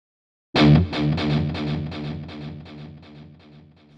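An electric guitar chord through an overdrive pedal in a Kemper Profiler effect loop, struck hard, then ringing out with thick overdriven crunch as it slowly fades.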